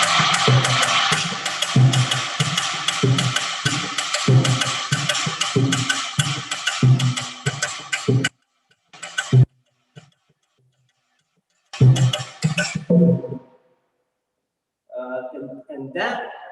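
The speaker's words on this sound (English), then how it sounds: "There is a rhythm plate called cascara" A cascara rhythm is tapped on the wooden side of a Latin jazz drum: steady, dry clicks in a tight repeating pattern for about eight seconds, then a few scattered sharp hits separated by silence.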